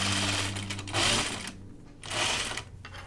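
A sewing machine stitching French seams on a caftan runs in two quick close bursts of rapid mechanical whirring and clatter, separated by a short pause.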